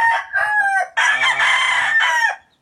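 A rooster on a Filipino backyard farm crows loud and close, a broken call followed by one long sustained crow with strong harmonics that fades out at the end.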